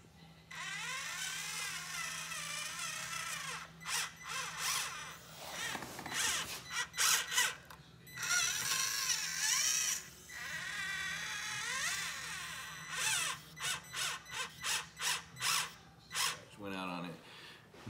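A Kyosho Mini Z 4x4 RC car with a faulty slipper clutch whirs and grinds in repeated short bursts of motor and gear noise, loud and close, while people talk between the runs.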